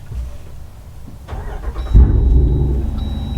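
A 2021 Jeep Wrangler Rubicon 392 fires up close by: a brief crank, then its big engine catches with a loud, deep rumble that settles into a throaty idle.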